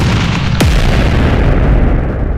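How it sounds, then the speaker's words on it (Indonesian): Explosion sound effect of solar energy slamming into a red shield in a fantasy audio drama: a loud, sudden boom with a sharp falling zap, followed by a sustained roaring rumble. "Ledakan besar terjadi saat energi surya menghantam perisai merah Dayat."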